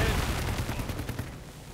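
A tank cannon firing in the World War 2 video game Headquarters: a rumbling, booming blast with rattling decay, fading over under two seconds at moderate loudness.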